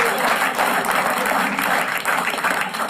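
Steady, dense applause from a crowd, many hands clapping continuously at an even level throughout.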